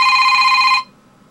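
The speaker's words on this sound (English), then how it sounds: "They have phone tones, like this one." A default-style phone tone ringtone plays from a Droid phone, a bright, loud electronic ring lasting under a second before cutting off abruptly.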